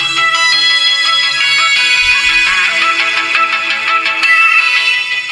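Music plays loudly through the satellite speakers of a 4.1 home theater kit, a sustained bright tonal sound with steady harmonics and a few low thumps partway through.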